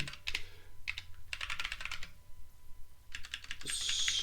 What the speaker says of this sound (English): What I might do is come back to that and do this because I started typing it.